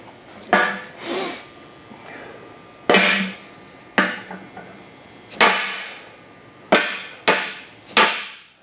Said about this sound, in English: So I'll take my hammer.